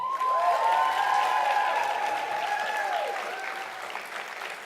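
Audience applause at a Black Lives Matter event at De Anza College, a dense, steady clapping from a crowd that holds for several seconds and eases slightly toward the end.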